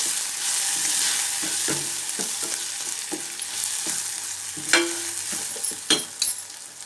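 Spice powder is stirred into cooked-down tomato in a pan for a stuffed brinjal curry made without onion or garlic, with a close, steady sizzle and repeated scraping strokes and knocks of a spoon.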